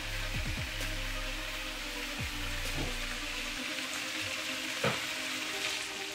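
Mahi mahi sautés in hot oil with a steady, close sizzle and crackle that holds for several seconds, with no one talking.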